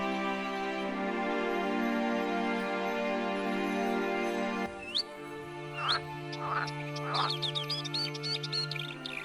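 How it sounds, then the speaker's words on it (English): Frogs and marsh warblers call at a small wetland pond. A steady droning tone comes first, then sharp chirps, trills and croaking calls break in one after another, fairly close. "we stop by a small pond where frog sounds and marsh warbler sounds are mixed together"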